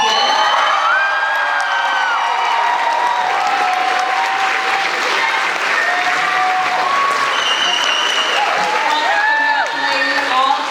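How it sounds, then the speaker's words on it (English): A school theatre audience at a Guys and Dolls performance claps and cheers steadily, with whoops and high shouts rising over the dense applause throughout, loud and continuous, and voices mixed into the crowd noise. "So our first clap we'd like to give to the General herself, Tanisha Jenkins."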